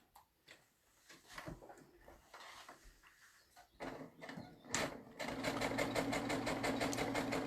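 Sewing machine with a flat presser foot stitching log cabin quilt strips: some handling clicks and knocks of fabric and parts first, then a steady, loud rapid whirring run close by for the last few seconds.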